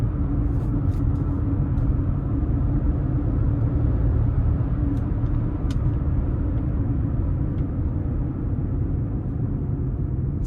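A 2025 Mazda CX-50 Meridian Edition in sport mode gives a steady, loud low engine and road rumble from inside the cabin, holding constant throughout with no talking.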